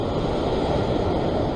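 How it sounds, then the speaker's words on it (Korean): Strong sea waves surge at a shore fishing spot, a steady broadband wash of surf with wind noise rolling continuously and fairly loud, no voices. "아이, 또 파도가 세니까."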